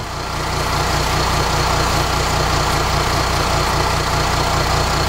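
A Mercedes 320 CDI V6 diesel engine runs steadily and loudly up close during an automatic gearbox oil change, a constant low rumbling drone with no break.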